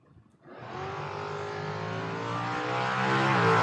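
Drag race cars, an AMC and a Camaro, roar to life together on a drag strip, a loud sustained engine drone rising steadily in pitch as they launch and pull away, close and continuous with no talk.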